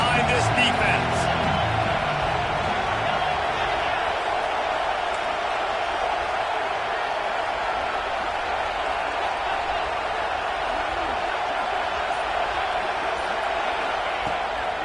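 Dense, steady stadium crowd roar in a college football video game, a constant wash of cheering and noise behind the defense on third down, with a voice talking over it early.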